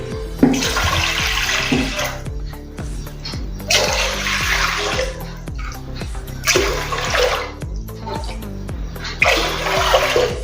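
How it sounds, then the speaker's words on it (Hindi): Water poured glass by glass into a large cooking pot while preparing rava kurdai: four separate splashing pours, close and loud, with short quiet gaps between them. "पाँच गिलास मैंने इसमें पानी डाला है।"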